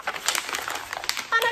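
A sheet of paper is crumpled up by hand, producing a short burst of close, crinkly crackling.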